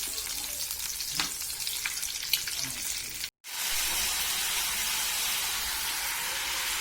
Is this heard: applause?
no